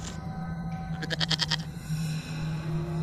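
A cartoon goat bleats in a short wavering cry of several pulses in the middle, set against a steady hum of background music.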